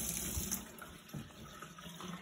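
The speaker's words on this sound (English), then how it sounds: "have the water running so it's like you're hosing it off" Tap water runs steadily while chrome is rinsed during detailing, a close, continuous splashing flow with slight surges and no talking.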